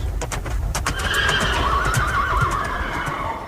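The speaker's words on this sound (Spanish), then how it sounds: "llevado por unos caballos sorprendentemente rápidos" Horses whinny loudly over the steady clip-clop of hooves, a fast team pulling a king's carriage, with the neighing rising clearly above the rhythmic hoofbeats.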